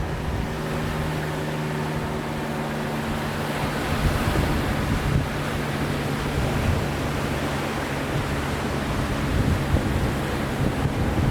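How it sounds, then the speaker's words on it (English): Broad, steady rush of ocean surf heard from the shore, with wind buffeting the microphone and a low constant hum underneath; no talking. "standing watching the ocean"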